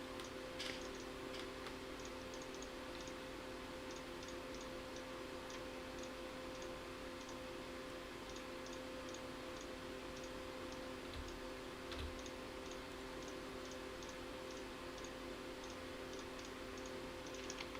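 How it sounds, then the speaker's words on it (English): Steady mechanical ticking from automated machines in the Minecraft modpack Project Ozone 3, small regular clicks repeating about twice a second through the whole stretch over a constant low electronic hum, with no talking. "What's ticking? This is ticking."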